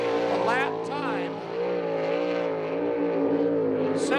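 USAC/CRA sprint cars roar around the Tucson, Arizona track, a loud sustained engine drone with pitch swells as cars pass, under a commentator's talk.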